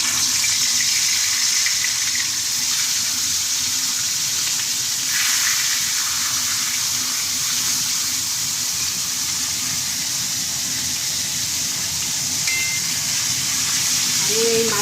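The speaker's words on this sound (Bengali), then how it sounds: "এবার আমি তেলটা আমার গরম হয়ে গেছে, এবার আমি মাথাগুলো ছেড়ে দিচ্ছি ইলিশ মাছের।" Hilsa fish heads fry in hot mustard oil in a pan, a loud, dense, unbroken sizzle that holds steady and close throughout, with faint occasional crackles.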